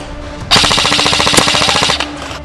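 An airsoft gun on an outdoor airsoft field fires one rapid, continuous burst of closely spaced shots. The shots are loud and close, lasting about a second and a half.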